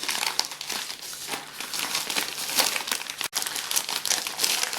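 Plastic packaging around an eBay-bought 1985 WWF Wrestling Classic VHS tape crinkles and tears steadily for several seconds, close and fairly loud, with a brief pause near the end and no talking.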